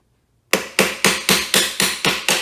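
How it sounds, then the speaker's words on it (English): A small hammer taps a pin into a Chevy/GM truck console lid hinge: eight sharp, evenly spaced metallic knocks after a brief silence, close and loud, each with a short ringing decay. "You can tap this in with a little hammer, and you can use the old pin as well."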